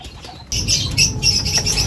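After a brief quiet moment, a racing pigeon's wings flap loudly and close as it enters its loft, a fluttering burst of beats that continues to the end.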